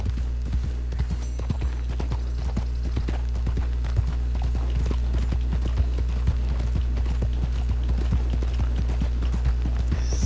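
Horse hooves clip-clop in Red Dead Online, a steady rhythmic run of close hoof strikes over a constant low rumble, continuing for the whole stretch.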